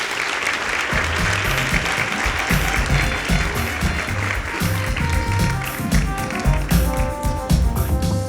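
Audience applause at a South African women-in-sport awards ceremony, sustained loud clapping from a large crowd with background music playing underneath, continuous throughout.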